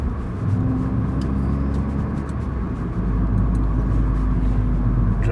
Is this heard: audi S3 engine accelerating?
yes